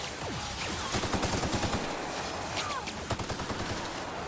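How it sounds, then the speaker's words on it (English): Rapid bursts of automatic gunfire from a firefight in the video game The Outer Worlds, dense rattling volleys running almost continuously at steady loudness with no talk. "Oh no, someone's shooting me."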